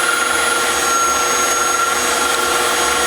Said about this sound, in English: The directions were to whisk it until the eggs are light and fluffy